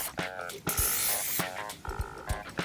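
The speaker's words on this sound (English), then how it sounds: "give that a little spray for us" Cooking spray hissing onto a waffle iron in a kitchen, a couple of short aerosol bursts under background chatter and clatter, with people talking nearby.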